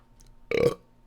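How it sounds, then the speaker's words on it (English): One short, close burp from a man, a single throaty croak of under half a second set against a quiet room. "I'll give myself, that was like a 8-year-old burp."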